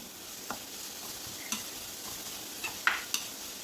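Ginger, garlic and tomato frying in a pan under a faint steady sizzle, with a few light scattered clicks of a spoon stirring.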